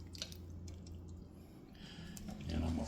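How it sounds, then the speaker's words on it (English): Tomato sauce is poured from a can into a crockpot for beef-stuffed bell peppers, giving soft wet drips and squelches that thicken into a brief glugging pour near the end, all quiet and close. "I'm going to put the rest of this tomato sauce in."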